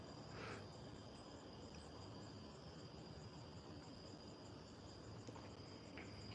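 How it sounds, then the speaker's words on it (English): Cicadas drone at night on a calm, quiet porch, a faint steady insect buzz running continuously without pause. "You can hear the cicadas."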